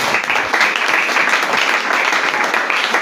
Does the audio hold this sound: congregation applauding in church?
yes